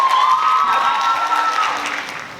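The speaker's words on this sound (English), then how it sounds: "Round of applause for Shailene." A school audience at a Year 8 debate tournament final gives a loud round of applause for the next speaker, close, dense clapping that slowly fades toward the end, with a faint ringing tone underneath.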